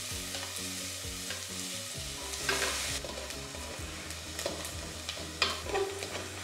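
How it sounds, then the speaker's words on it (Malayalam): Sliced onion and green chillies fry in a pan for a potato curry, giving a steady close sizzle with repeated clinks and scrapes of stirring and no talk. "ഇതൊരു ഗോൾഡൻ ബ്രൗൺ കളർ ആവുന്ന വരെ നമുക്ക് ഒന്ന് ഫ്രൈ ആക്കി എടുക്കാം"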